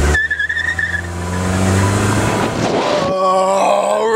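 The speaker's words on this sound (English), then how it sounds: "How's your burnout? Yeah. How's your wheel spin on there?" A car revs hard with wheels spinning in a burnout, a loud rising engine roar with tyre noise that surges and then shifts to a higher strained whine near the end; no talk.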